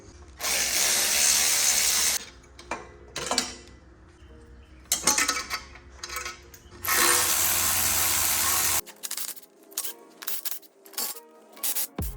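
Hand tools clatter and ratchet while a turbo kit is removed from a cracked, built BMW N54 engine from a 335i, with bursts of metallic clanking, rattling and short bangs, close by and uneven.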